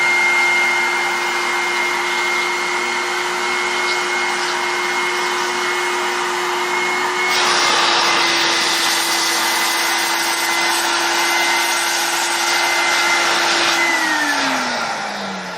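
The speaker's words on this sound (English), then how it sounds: "You want to get into the folds here where bed bugs might be with the vacuum." The Desiderio Plus bed bug fogger's vacuum whines steadily while working over the folds of a chair, its tone shifting and growing rougher midway before spinning down at the end.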